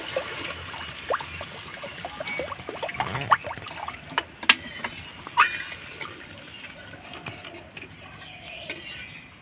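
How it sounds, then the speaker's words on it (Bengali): Water poured into spiced curry masala in a pan gives a soft, close trickling and sizzling wash, broken by scattered clinks of utensils on the pan. "এবার দিয়ে দিব আমি পরিমাণ মতন জল।"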